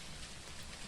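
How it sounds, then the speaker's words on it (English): Rain weather in the horror video game Phasmophobia at a lighthouse: a steady, even wash of rainfall, faint and unbroken, no voices. "It's the rain weather, which kind of sucks"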